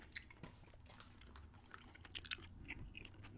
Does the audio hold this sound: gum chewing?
yes